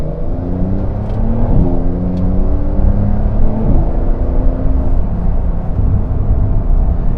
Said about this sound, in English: And tipping into the throttle here.